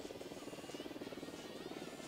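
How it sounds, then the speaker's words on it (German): A helicopter approaches in the video game Ghost Recon Wildlands, its rotor making a faint, rhythmic thumping buzz that pulses evenly and steadily throughout with no speech over it. "Da nähert sich ein Helikopter."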